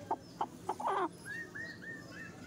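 A forest-breed hen brooding eggs at home gives a few short, close clucks, then a series of soft, drawn-out murmuring calls with low background noise.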